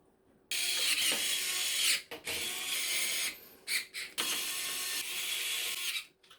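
Power screwdriver driving motherboard screws into a white PC case, several short bursts of whirring and ratcheting separated by brief pauses, close and fairly quiet.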